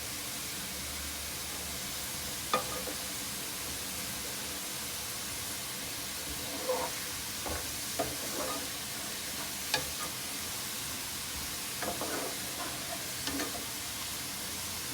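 Sliced okra (bhindi) fries in oil in a pan, a steady soft sizzle running throughout while a spoon stirs and scrapes it every few seconds, with no one speaking.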